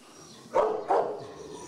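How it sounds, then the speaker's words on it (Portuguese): A dog gives two sharp barks in quick succession, close and fairly loud, with quiet room tone after. "Deve ter alguma cruzeirense aqui que ele está latindo."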